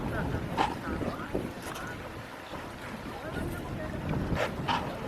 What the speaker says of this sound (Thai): เสียงลมพี่น้อง